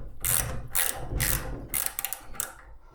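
Steel end wrench cranking on a Vevor bench vise: five sharp metallic ratcheting bursts in an uneven rhythm, close and fairly loud over a low hum, with no talk.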